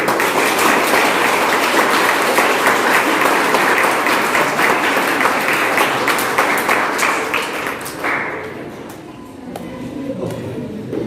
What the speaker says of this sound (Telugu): వాళ్ళు ఎంత ప్రేమగా మీకోసం క్లాప్స్ కొట్టారు